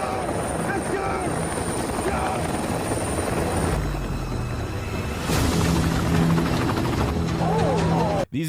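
A helicopter roars steadily and loudly close overhead, its engine and rotor noise filling the scene while people shout over it during a Special Forces jump from a speedboat.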